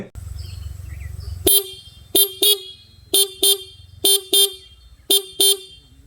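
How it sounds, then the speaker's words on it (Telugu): Single horn of a 2026 Honda SP 125 motorcycle sounds in a series of short, loud beeps, seven or eight toots in pairs and singles over a quiet idle, close and clear. "అలానే ఈ వెహికల్లో సింగిల్ హార్న్ ఇచ్చారు. హార్న్ సౌండ్ ఒకసారి వినండి."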